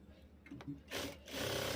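A sewing machine stitches nylon umbrella-type fabric while a long-sleeved shirt is cut down to short sleeves, a faint close whirring burst of stitching that swells in the second half after soft handling noises.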